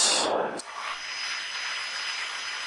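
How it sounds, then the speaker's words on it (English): A Piper Cherokee light aircraft's engine at takeoff on the runway, a steady broadband roar heard from inside the cabin after a brief louder rush at the start. "Now we're going to take off on runway 25, which is westbound."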